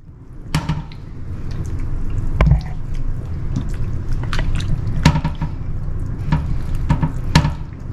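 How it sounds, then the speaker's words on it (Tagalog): Soy sauce poured over pork belly for lechon gives scattered wet drips and squishy splashes, close and moderately loud, with no voices. "Naglalagay ako ng soy sauce."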